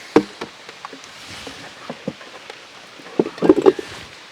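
Rain falling outdoors during a wet landscape photography outing, with scattered drops and taps against nearby surfaces, a few sharper knocks and a brief cluster of louder hits toward the end, over a faint background wash.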